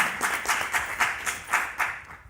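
Audience at a citizens' town meeting in Conches-en-Ouche claps in several swelling bursts, fairly close and loud, with no voices over it.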